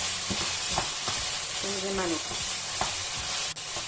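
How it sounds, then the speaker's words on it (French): Ingredients sauté in a hot pan under a steady, loud sizzle, with a utensil scraping and knocking as they are stirred and a brief voice murmuring in the middle. "Maintenant qu'on a bien tout fait sauter"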